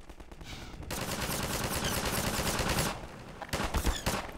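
Video game gunfire: a dense, continuous burst of rapid automatic shots lasting about two seconds, then a short pause and another loud burst, with no talk.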